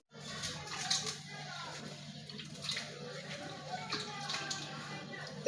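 Broken rice grains are rinsed by hand in a pot of water, with close, continuous swishing and splashing and small drips throughout.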